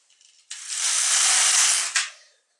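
An LK150 knitting machine carriage sliding once across the needle bed, a smooth whirring rush of about a second and a half ending in a sharp clack.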